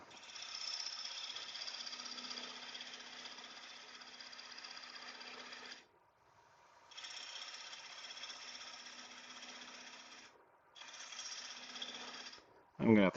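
Cedar bowl being turned on a wood lathe with a hand turning tool, a steady broadband scraping hiss in long runs broken by short pauses, ending with a brief sharp knock.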